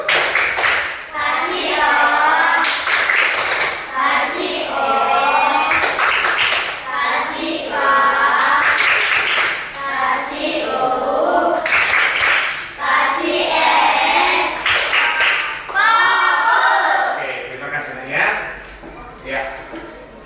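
A school class claps out a rhythmic focus-clapping pattern in repeated bursts, loud and close, with children's voices chanting between the clap sequences.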